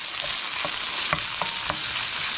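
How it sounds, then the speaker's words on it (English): Sliced green chilies fry in a pan for a spicy Sri Lankan tomato curry, a close, steady sizzle broken by a few light stirring clicks. "just some green chilies, sort of just sliced up, many as you want, and we'll just give that a quick fry."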